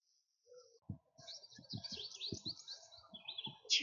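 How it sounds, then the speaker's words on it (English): Chickadees chirp outdoors in a quiet setting, with thin high calls repeating at a moderate distance over soft low thumps, and one brighter call at the end. "Those are the chickadees. They're somewhere out there. I can hear them."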